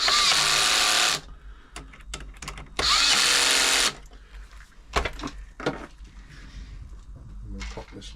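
An electric screwdriver tightens the large screws on a Janome Atelier 6 sewing machine during a service, two loud whirring bursts of about a second each, followed by quieter clicks and handling of parts.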